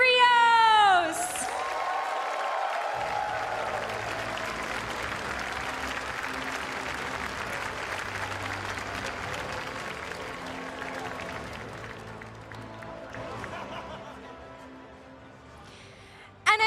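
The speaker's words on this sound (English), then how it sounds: "And a huge round of applause for the video game Masters champion, Francesco Piampero!" A crowd at a Pokémon VGC tournament breaks into sustained applause with some cheering for a finalist, following a loud announcer's call, the clapping slowly fading before a brief burst at the end.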